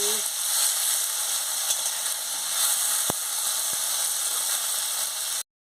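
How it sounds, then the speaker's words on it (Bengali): Elephant apple (chalta) pieces frying in a pan for chutney, a steady loud sizzle throughout with a couple of sharp spoon clicks from stirring, ending abruptly. "এবার আমি চালটাগুলো দিয়ে দিচ্ছি দিয়ে ভালো করে নাড়িয়ে নিচ্ছি"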